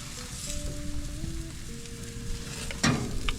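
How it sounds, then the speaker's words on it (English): Apple cider vinegar hits a hot pan on a Crown Verity grill, giving a steady, close hiss of sizzling with a brief louder sputter near the end, with no voices. "we can just go ahead and start adding our apple cider vinegar"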